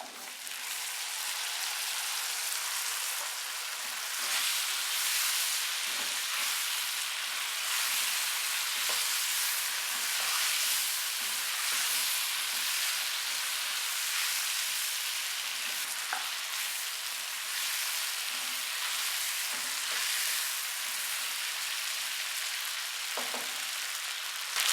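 Fried chicken sizzles in a pan of roasted spice masala, a steady close crackling hiss with occasional stirring scrapes and no talking.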